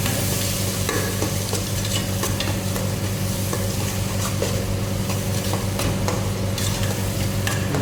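Boti (goat tripe) curry being stirred in a pan, with a steady close sizzle of frying throughout and repeated scraping strokes of the spoon against the pan, no voices.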